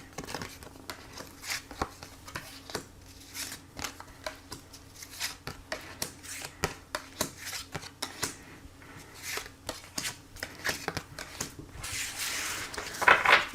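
Tarot cards shuffled and drawn by hand for a reading, a run of soft, quick papery flicks and taps in an irregular rhythm, close and fairly quiet, with a brief brighter rustle near the end.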